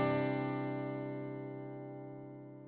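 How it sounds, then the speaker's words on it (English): A single guitar chord strummed once across the bottom five strings, ringing out bright and close, then slowly decaying alone without any talk. "We are just going to strum the bottom 5 strings with nice arched fingers up top."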